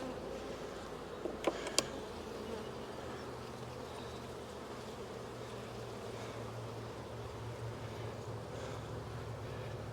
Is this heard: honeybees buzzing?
yes